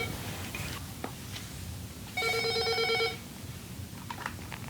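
A telephone rings once in a quiet home, a short electronic trill of about a second heard at moderate distance over low room noise.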